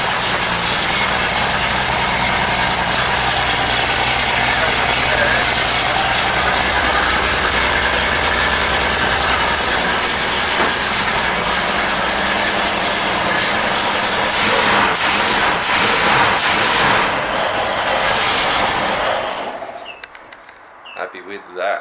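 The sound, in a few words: car engine idling with motorbike muffler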